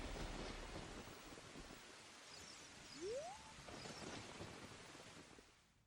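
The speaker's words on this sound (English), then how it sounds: "That kid gonna go tell on me for summoning a storm and destroying one of the tombstones with a burst of lightning?" Rain and rolling thunder from a storm summoned in the video game The Legend of Zelda: Ocarina of Time Master Quest, a steady wash of rainfall with low rumbles and a brief rising tone near the middle, fairly faint.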